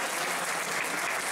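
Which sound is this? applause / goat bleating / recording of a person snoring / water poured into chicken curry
applause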